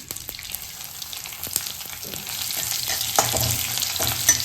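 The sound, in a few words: garlic and curry leaves frying in pan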